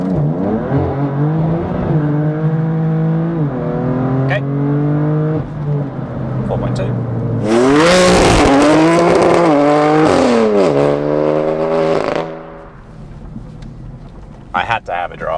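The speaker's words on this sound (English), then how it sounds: "Bit of brake boosting and go for it." A heavily modified BMW M4 CS launches hard off a brake-boosted start and accelerates through several quick upshifts, the engine note rising and falling in steps, then a roaring loud surge before the throttle lifts and it fades; someone speaks briefly.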